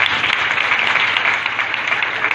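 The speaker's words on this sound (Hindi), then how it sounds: "एक बार भैया के लिए जोरदार तालियों से स्वागत।" Audience at a Bhagwat Katha gathering in a Lakshmi Narayan temple claps loudly and continuously, a dense, steady applause throughout.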